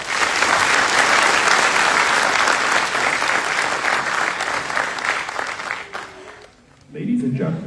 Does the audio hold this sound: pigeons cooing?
no